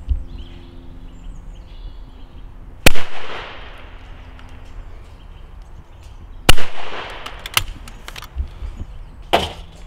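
Two loud shotgun reports from a Miroku MK38 Sporter fired at driven clay targets, sharp blasts near 3 and 6.5 seconds followed by fainter cracks and clicks, likely the action being handled, over quiet outdoor ambience.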